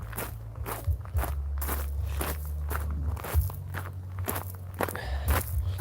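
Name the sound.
footsteps of a person walking outdoors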